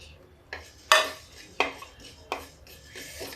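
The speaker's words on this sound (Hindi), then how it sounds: "इस पैन में सबसे पहले हम जीरा भूनेंगे, फिर इसके बाद सौंफ।" Cumin and fennel seeds are roasted in a hot pan, heard as a series of sharp metallic clinks and scrapes from a spoon against the pan at irregular intervals, close and clear, with no talking.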